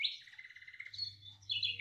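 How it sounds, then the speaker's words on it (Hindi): Sparrows chirp in a home courtyard near a bird feeder, a quick run of bright, repeated tweets followed by more scattered calls, close and clear over a low background hum. "देखिए, चिड़िया अपने बच्चों को दाना चुगा रही है।"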